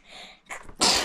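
A single close, loud human sneeze: a short breathy intake building into one sharp explosive burst, alone with no talk.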